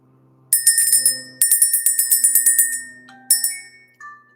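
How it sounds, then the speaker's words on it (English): A bell is rung rapidly and repeatedly in bright, ringing bursts, with two main runs of quick strikes and a few single rings that fade out afterward, loud and close with no talk. "Let's ring the bell."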